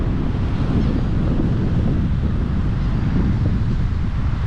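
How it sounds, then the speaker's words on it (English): Ocean surf at Mexico Beach rolls in a steady, heavy roar, with wind buffeting the microphone constantly throughout and no distinct breaks between waves. "Just look at that beautiful, beautiful, pristine beach."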